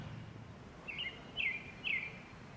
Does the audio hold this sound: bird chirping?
yes